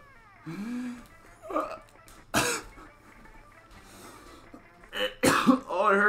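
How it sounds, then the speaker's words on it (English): A person coughs a few times, sharp bursts among strained vocal sounds and throat clearing during a Cuphead gaming session, with faint game sounds in the background. "Oh, it hurts to cough and laugh."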